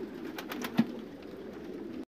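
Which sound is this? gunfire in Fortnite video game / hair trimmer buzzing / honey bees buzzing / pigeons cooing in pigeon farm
pigeons cooing in pigeon farm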